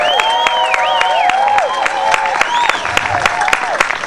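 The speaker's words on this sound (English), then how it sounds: "What's a crowd applause on that for number 10" A large crowd at the Nimbin MardiGrass parade cheers and applauds steadily, dense clapping mixed with whistles and shouts, loud and continuous throughout.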